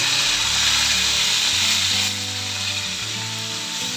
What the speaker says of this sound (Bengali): আলুগুলো আমি চাপা দিয়ে দিয়ে ভাজছি, আর একটু লাল করে ভাজবো।